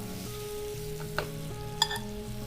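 Chicken breast pieces sear in a hot pan with a steady, close sizzle and a couple of sharp clicks as the pieces are moved, with no one speaking.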